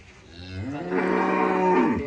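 Female cattle gathered for Eid al-Fitr festivities let out a long, loud, close moo that rises and holds before trailing off, with no talk over it.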